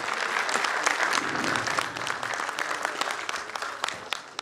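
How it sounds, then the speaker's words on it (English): Audience applause at an architecture institute convocation ceremony, a dense steady wash of many hands clapping that holds for several seconds, with faint voices mixed underneath. "Ladies and gentlemen, please give a big round of applause."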